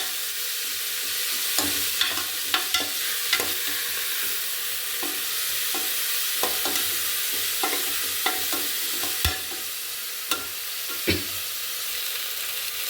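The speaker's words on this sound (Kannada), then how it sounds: "ಇವಾಗ ಎರಡು ನಿಮಿಷ ಸೊಪ್ಪನ್ನು ಚೆನ್ನಾಗಿ ಎಣ್ಣೆಯಲ್ಲಿ ಬೇಯಿಸ್ಕೊಂಡಾಯ್ತು" Fenugreek leaves fry in hot oil with green chilli and garlic, giving a steady close sizzle and hiss throughout, broken by scattered scraping clicks from a stirring spoon against the pan.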